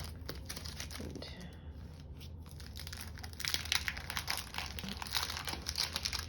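Plastic packaging around emoji sticker sheets crinkles and rustles close up as the sheets are pulled out, getting louder and busier partway through, with faint speech mixed in.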